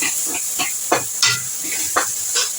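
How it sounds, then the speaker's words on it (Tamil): Onions and tomatoes sauté in a pan for a spicy tamarind curry, giving a steady hiss with bursts of sizzling and stirring scrapes at irregular intervals, close up with no talking. "வெங்காயம் தக்காளி நல்லா வதங்கட்டும்"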